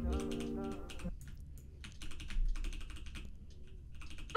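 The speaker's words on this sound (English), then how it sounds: "I've got to spam a key on my keyboard to try and attack" A computer keyboard key is spammed rapidly to attack while playing Minecraft Java Edition on mobile, giving bursts of fast, close clicking that rise and fall, with a brief tonal hum at the start.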